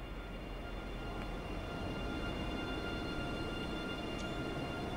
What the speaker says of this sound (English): This particular train is a third-generation intercity express built by Siemens in Germany for international operations.